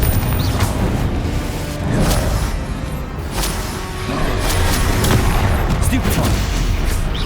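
Confringo fire spells blasting in the Hogwarts Legacy video game: repeated booming explosions and crackling impacts in a busy combat mix, with voices calling out between the blasts.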